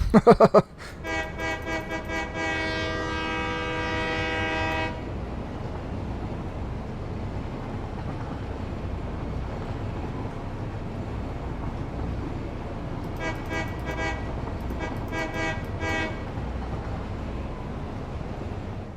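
A train horn in the game Satisfactory sounds a loud, sustained harmonic blast for several seconds, with a few shorter toots later over a steady rumbling engine and rail noise.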